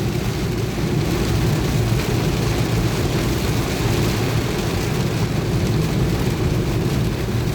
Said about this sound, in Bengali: কিছু পড়ছে, বৃষ্টি হচ্ছে।